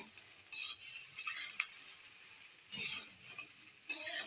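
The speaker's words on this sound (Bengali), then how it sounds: "এখন খুব ভালোভাবে ভাজতে হবে।" Puffed rice mixed with fried ingredients is tossed in a pan, making a faint, steady sizzle broken by three brief scraping stirs.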